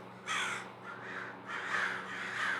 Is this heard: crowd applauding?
no